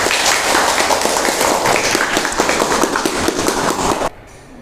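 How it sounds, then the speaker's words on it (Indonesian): A class of students applauds in a classroom, with dense, loud, fast clapping that runs steadily for about four seconds and then cuts off abruptly, leaving a quiet room. "Tepuk tangannya mana?"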